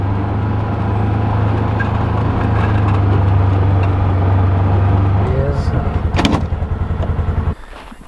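A side-by-side utility vehicle's engine hums steadily and close up, with a constant low drone that shifts and then cuts off near the end, followed by a few clunks.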